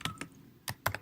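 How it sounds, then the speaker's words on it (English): A graph title being typed on a computer keyboard: a handful of sharp, close key clicks in quick uneven bursts, clear and alone without speech. "you type the title"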